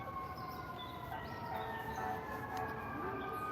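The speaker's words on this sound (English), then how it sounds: "I guess the sirens don't stop, not even when you're at the Botanical Garden." Wailing emergency sirens rise and fall continuously in the distance, layered over a steady city background hum, heard from the New York Botanical Garden in the Bronx.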